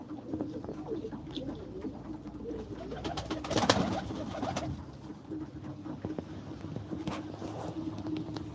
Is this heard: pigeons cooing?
yes